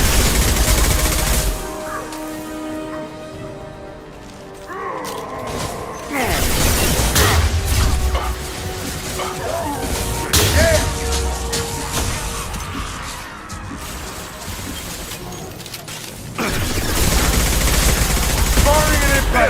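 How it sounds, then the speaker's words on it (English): Video game combat in Mass Effect with a krogan ally: rapid bursts of gunfire and heavy concussive blasts crackle and boom in irregular volleys, with speech in the mix. "Firing concussive shot."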